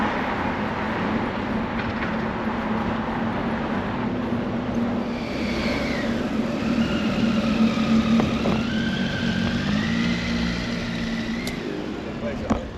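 Steady traffic rumble inside the road tunnel at Gibraltar, with a constant low drone of passing vehicles and a few higher engine whines rising and falling partway through, loud and continuous throughout.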